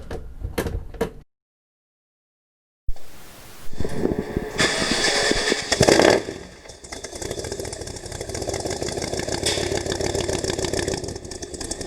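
An engine on a vintage aluminum-bodied bus cranks and catches after a brief silence, then settles into a loud, steady idle with a rough, throbbing rumble close by.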